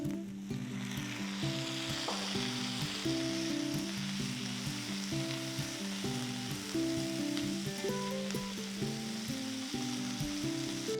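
Chopped tomato frying with sautéed onions for a cauliflower curry gives a steady, close sizzle across the whole stretch, under continuous tonal background music.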